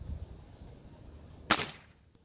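A single bow shot strikes a target about ten paces away, one sharp crack after a quiet stretch of faint background noise.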